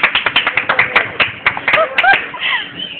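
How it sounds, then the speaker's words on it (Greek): A small group clapping together in an irregular rhythm, close and fairly loud sharp claps that thin out after a second or two, with brief voices and whistle-like chirps mixed in near the end. "ένα χειροκρότημα όλοι μαζί"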